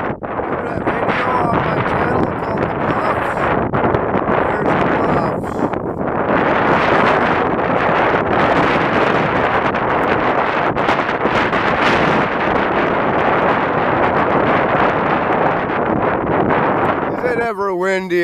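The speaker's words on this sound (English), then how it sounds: "Ever windy out here today." Strong, continuous wind roars and buffets the microphone outdoors, loud and unbroken throughout, ending with a brief different noise.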